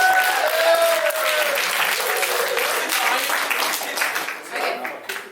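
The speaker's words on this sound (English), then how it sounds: "Do you want to give him a little clap?" An audience at a Melbourne underground hip-hop event claps, a dense burst of many hands that holds loud at first, then thins and fades out, with a voice speaking briefly early on.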